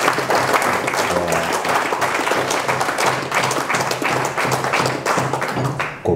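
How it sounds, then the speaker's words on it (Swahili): Hands clapping in a group at a Tanzanian school quality-assurance training session, a dense, steady patter of many claps sustained throughout and cutting off near the end. "Kwa hiyo mjipigie makofi kwa kweli."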